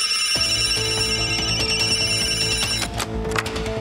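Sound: phone ringing in a cartoon

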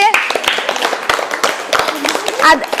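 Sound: children clapping

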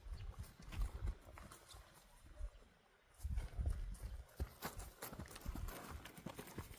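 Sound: horse walking around during lounging without a rope

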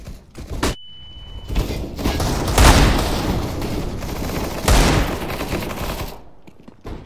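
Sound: grenade explosion and gunfire in a video game

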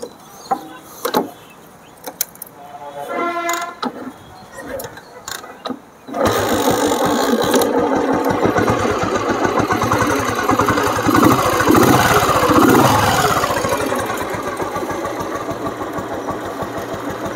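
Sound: 1989 Royal Enfield Bullet motorcycle engine starting and idling

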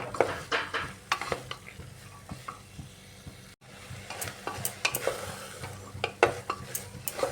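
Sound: soybean and kidney bean ghugni being sautéed and stirred with spices

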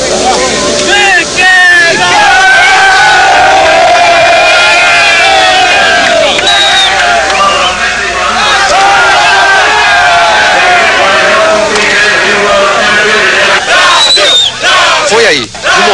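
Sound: crowd cheering as the champion walks to the podium

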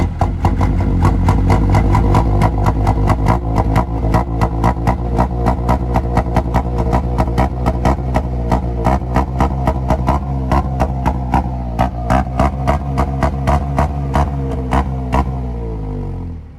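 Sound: Otokar M2000 Magirus bus engine revving

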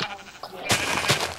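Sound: sheep bleating in a video game

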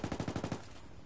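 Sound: machine gun fire in the video game Ghost Recon

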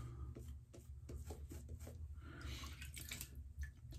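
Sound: water added to shaving soap lather

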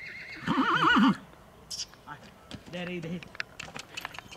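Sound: stallion neighing

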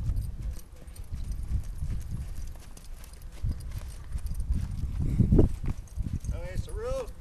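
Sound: horse hooves clip-clopping

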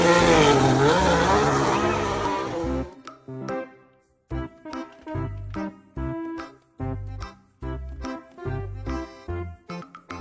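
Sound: race car

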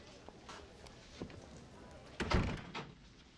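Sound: door being closed

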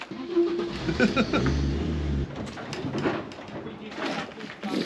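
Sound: engine being revved too hard

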